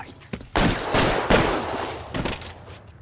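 In a shootout at a cafe in the video game L.A. Noire, sharp gunfire bursts in several loud, rapid volleys of overlapping shots. The volleys are separated by short, echoing gaps.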